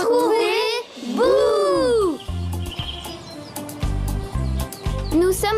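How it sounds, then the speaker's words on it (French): Birds chirp and whistle in a forest, clear repeated calls mixed with a voice and cartoon-style speech and sound effects. "J'entends les oiseaux chanter."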